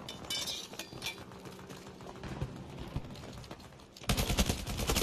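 Gunfire in the video game Make Us Whole: rapid, dense bursts of shots crackle continuously, growing louder and harsher toward the end, with no speech.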